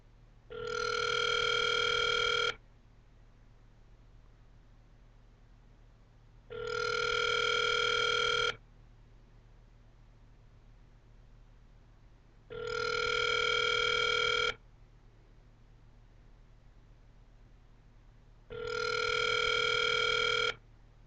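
A phone call over speakerphone rings unanswered: four evenly spaced electronic ring tones, each about two seconds long, separated by roughly four seconds of quiet line hiss.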